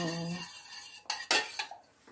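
A spoon clinks and scrapes against a bowl while stirring liqueur for a cake, with a few sharp metallic taps after a brief low hum at the start.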